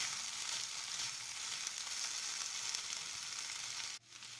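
Veg Schezwan noodles being stir-fried and tossed with a fork in a hot pan, a loud, continuous close sizzle that cuts off near the end.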